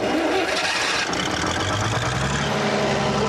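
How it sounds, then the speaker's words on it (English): A British generator unit driven by a Leyland engine cranks and starts, settling into a loud, steady mechanical running close by with no talk over it. "It's a Leyland engine, and it's a British generator unit as well."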